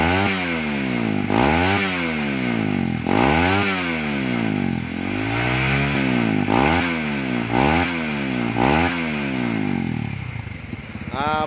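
A Honda CB150R motorcycle fitted with a custom exhaust revs hard up close in about seven sharp throttle blips, each engine note rising and falling back toward idle before the next, with the engine dying away at the end.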